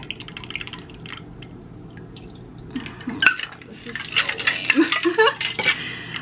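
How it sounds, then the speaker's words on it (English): A drink trickles and drips into a glass over cotton candy, melting it, with light clinking and fizzing, growing busier toward the end; no speech. "you're gonna pour your drink over your cotton candy so that it melts"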